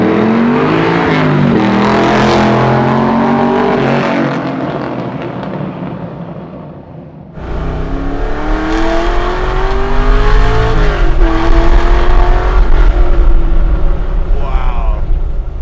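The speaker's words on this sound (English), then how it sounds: "The exhaust really does sound good." A Hellcat-powered Chevy C10 roars through its exhaust, revving hard and rising in pitch twice with a brief lift between, loud and close, with people talking over it.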